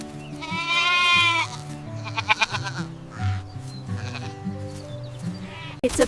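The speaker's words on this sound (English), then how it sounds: "It's a goat." One clear, quavering goat bleat rings out early on, then gentle background music continues with faint animal calls and no speech.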